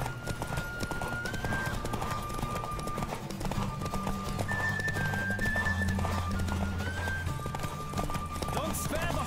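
A horse gallops in a race in The Witcher 3, its steady clip-clop hoofbeats running continuously under a layer of music and game sounds.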